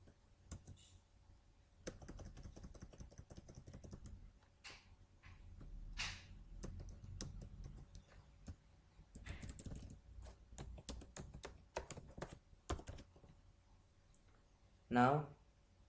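Code is typed on a computer keyboard in quick bursts of close, crisp key clicks, with a few short pauses between runs.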